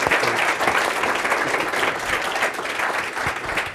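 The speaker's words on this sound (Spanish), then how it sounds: "un aplauso para los ponentes" An audience at an architecture conference session on vernacular building applauds the speakers: sustained, full, even clapping from a sizable crowd with no pause.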